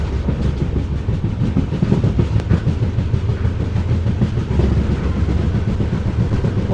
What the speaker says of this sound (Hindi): बहुत ही अच्छी रफ्तार पकड़ते हुए आगे बढ़ती हुई हमारी 14505 नंगल डैम एक्सप्रेस।